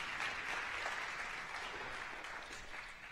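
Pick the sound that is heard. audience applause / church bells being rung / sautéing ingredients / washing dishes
audience applause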